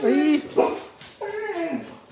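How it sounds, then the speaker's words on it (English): A dog in a home barks and whimpers close by, two sharp yelps followed by drawn-out whining cries that rise and fall, loud and alone. "the dog is barking, so I apologize"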